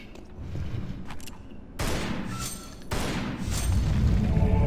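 Gunfire in Tomb Raider: Anniversary strikes a blade mechanism, heard as two sharp, loud broadband blasts about a second apart, each with a ringing decay, following fainter clicks.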